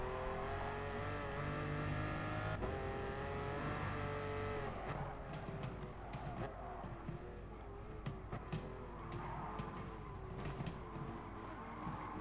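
Old McLaren race cars in Gran Turismo Sport, Midship Challenge, with engines droning and revving continuously and loudly, with shifting pitch as they accelerate and no talking.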